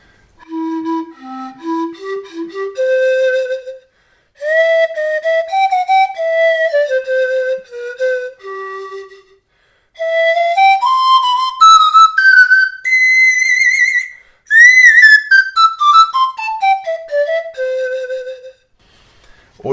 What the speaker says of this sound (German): Und so klingt die Panflöte.